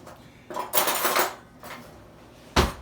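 Metal spoon or fork clinking against a dish holding a creamy coconut and banana tart with crust, a few scraping bursts followed by a sharp close clink near the end.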